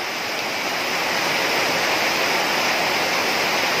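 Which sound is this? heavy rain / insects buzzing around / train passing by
heavy rain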